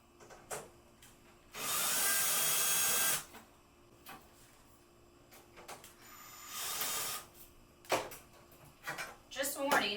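A power drill whirs in short bursts while backing screws out of the side panels of an Avid Armor Cellar Series chamber vacuum sealer, close and loud with pauses between runs.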